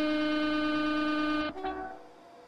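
A Virgin Trains Class 390 Pendolino in Train Simulator 2018 sounds a steady, loud, tonal horn blast for about a second and a half, which then cuts off and fades to a lower, quieter tail.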